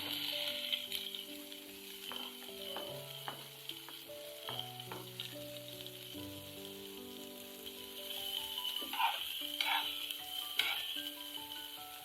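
Green onions and green chilies fry in oil in a pan, a steady crackling sizzle running throughout, with soft stirring scrapes and a few brighter clinks later on, close and moderately loud.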